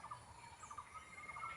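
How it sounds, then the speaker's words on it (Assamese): Birds call near tall trees behind a village, a faint scatter of chirps over steady outdoor background noise. "আৰু শুনক চৰাইৰ মাত।"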